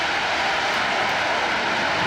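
An airplane engine roars at an air show, a loud steady drone held throughout with no voices.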